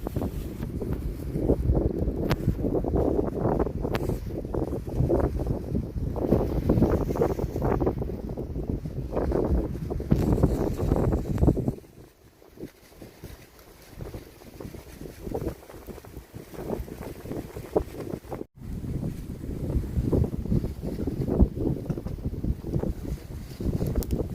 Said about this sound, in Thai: ลมแรงมากๆเลยเพื่อนๆ